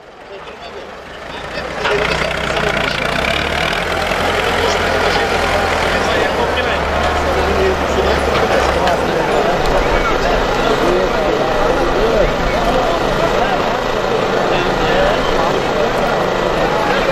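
A tractor engine runs steadily and loudly in a rural yard in Urgut, a continuous low rumble that starts up and swells after the first two seconds and holds for the rest, with voices calling over it.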